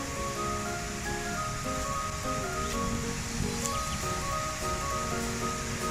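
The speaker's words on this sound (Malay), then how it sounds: "Daripada sini pun you guys akan dengar bunyi desiran air terjun." A waterfall at Lata Berangin heard from a distance, a steady broadband rushing roar that is constant and uniform throughout, with no talking.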